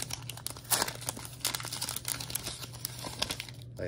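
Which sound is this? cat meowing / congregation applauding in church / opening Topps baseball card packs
opening Topps baseball card packs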